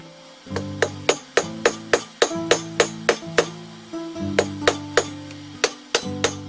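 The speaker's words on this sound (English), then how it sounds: "The steel becomes longer and thinner once you start hammering it" A hammer forges a tang into a steel file being made into a Finnish puukko knife, striking metal in a steady rhythm of sharp ringing blows, around twenty strikes in close succession with brief pauses.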